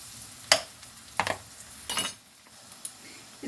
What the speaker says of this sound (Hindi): ये अदरक गई है और ये